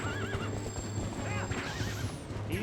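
A horse gallops and neighs in the video game Twilight Princess, with clip-clopping hooves and repeated whinnies over a busy game soundtrack and effects, with a voice talking faintly beneath.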